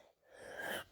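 A single short sneeze from a person during a flight simulator takeoff challenge, a quick faint intake followed by a breathy burst, close to the microphone.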